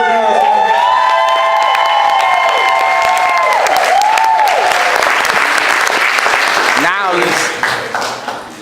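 A large audience bursts into loud applause with whoops and cheers, sustained and close for several seconds before tapering off, with shouted voices rising over the clapping.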